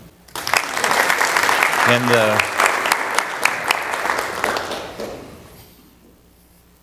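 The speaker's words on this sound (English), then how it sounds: "Hand of applause." A conference audience at a trucking safety council annual meeting bursts into loud applause that swells quickly, holds for several seconds, then thins out and fades, with a brief spoken word over it near the start.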